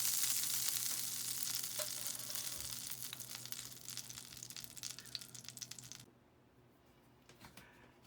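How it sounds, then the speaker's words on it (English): Steak frying in a pan of butter while being basted with a spoon, a steady bright sizzle with faint scraping clinks that fades and drops lower near the end. "I can go ahead and spoon it back onto the steak again"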